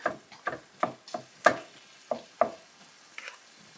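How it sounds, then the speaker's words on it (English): Ground beef browning in a frying pan sounds as a series of sharp scraping and stirring strokes, roughly two per second, over a faint sizzle, close and fairly quiet. "we're just gonna get it broke up and browned really good"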